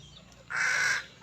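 A single chicken call rings out close by, a short bright cluck-squawk lasting about half a second against quiet backyard ambience.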